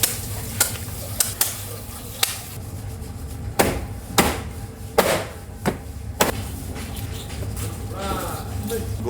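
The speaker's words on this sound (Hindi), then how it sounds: "गोश्त को काटना भी एक ठीक ठाक सख्त काम है।" Goat meat being chopped for Eid qurbani, sharp, irregular thwacks of a blade on meat and board spaced a second or so apart, with people talking in the background.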